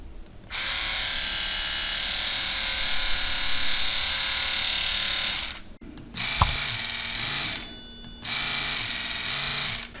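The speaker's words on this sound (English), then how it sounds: "The motor is working, and probably the pump is working too." A Woya WYA16 oral irrigator with its casing opened up runs its motor and pump in two loud bursts of steady buzzing whir. A short click and a pause come between them, with no talking.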